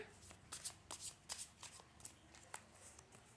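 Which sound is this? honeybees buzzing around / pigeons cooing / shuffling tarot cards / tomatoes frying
shuffling tarot cards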